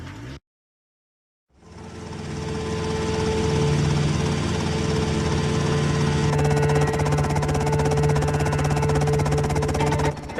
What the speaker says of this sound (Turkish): Pekala helikopterimiz geldi